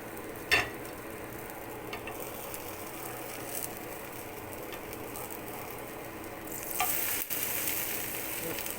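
Food roasts in a pan with a soft, steady sizzle at low volume, a faint continuous crackle broken by a few brief clicks and a slightly louder stir near the end.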